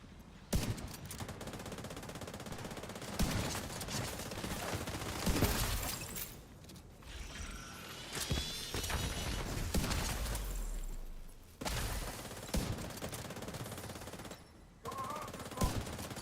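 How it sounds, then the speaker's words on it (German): Heavy automatic gunfire rattles through a firefight in the video game The Division 2, with long dense bursts and overlapping shots that run almost continuously and loudly, broken by brief pauses. "Unter starkem Beschuss!"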